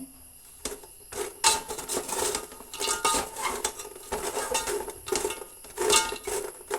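Sharkara varatti being stirred in a pan, with continuous scraping and clinking of a metal spoon against the pan in an uneven, busy rhythm, close and fairly loud, with no talking.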